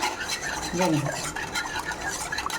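Papaya Bombay halwa is stirred constantly in a pan: a thick, wet scraping and churning at close range, with faint sizzling underneath.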